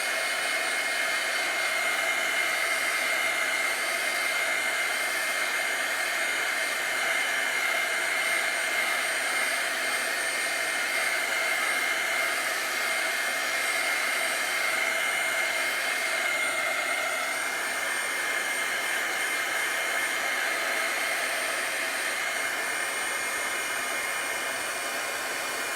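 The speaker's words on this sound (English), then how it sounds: "I'm going to use a little dryer here, heat gun, to dry this white" A heat gun drying white paint on a hand-made wooden sign gives a steady, close, whooshing blower hiss with a whine, running unbroken and alone.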